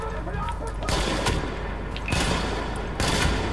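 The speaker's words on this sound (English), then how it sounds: "Martinez shooting me with some kind of sniper rifle there" Rifle fire in the shooter game The Division, with a few loud, sharp cracks spaced about a second apart over dense background combat noise.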